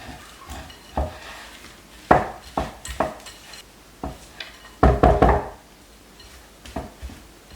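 A low carb breakfast bar mixture is stirred in a bowl with a spoon, giving irregular knocks and scrapes against the bowl's sides. The clatter comes in uneven bursts, close and fairly loud, with no voice.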